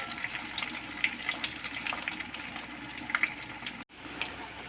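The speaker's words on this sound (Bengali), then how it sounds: "বন্ধুরা, এই সাইডে আলুটা ভাজছি" Potatoes frying in a pan for biryani give a steady close sizzle with small pops and crackles, running continuously with a brief dropout near the end.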